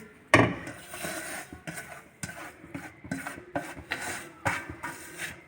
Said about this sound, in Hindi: अब हम इसके अंदर सूजी डालेंगे 1 किलो, जो हमने पहले भून ली थी